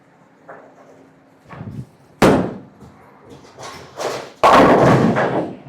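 Hammer Black Pearl urethane bowling ball released onto the lane, a heavy thud followed by rumbling roll and a loud crash of pins toward the end, with alley noise around it.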